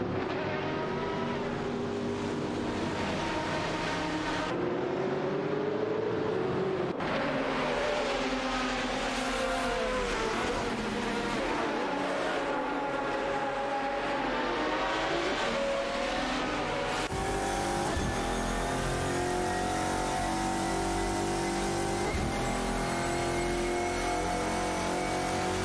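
Race cars in a racing video game, including a Lister Storm GTS and a Lamborghini Murcielago RGT, roar continuously as engines rev up and down through gear shifts, loud and close, with no voices over them.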